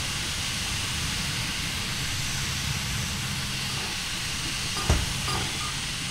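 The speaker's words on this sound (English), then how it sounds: "dump a little bit more steam" Steam locomotive in Derail Valley venting steam, a loud, steady broadband hiss running throughout with a low mechanical rumble underneath and a brief clunk near the end.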